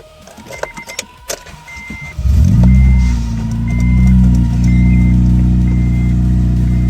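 A car engine cranks and catches after a couple of seconds of faint clicks and rattles, then settles into a loud, steady idle close by, with no talking.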